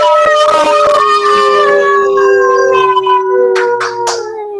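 Several human voices imitating wolves in a collective moon howl, with overlapping drawn-out howls sliding in pitch, loud and near, dissolving into scattered yips near the end.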